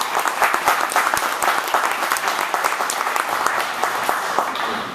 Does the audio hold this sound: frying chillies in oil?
no